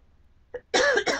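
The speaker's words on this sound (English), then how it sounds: "Excuse me, I had to cough." A woman gives a short, close cough: a faint catch first, then two harsh bursts in quick succession, in a quiet room while crafting cards.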